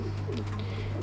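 Racing pigeons coo softly in a loft, low throaty murmurs repeating under a steady electrical hum.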